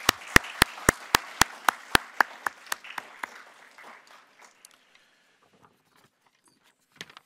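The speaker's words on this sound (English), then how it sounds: "I would like us to give another round of applause, not only to our panel, but to all our military spouses joining us here today." Applause for a panel at an event on military spouses, starting with a few loud, close, evenly spaced single claps, then thinning into scattered light clapping that fades out, with a couple of faint claps near the end.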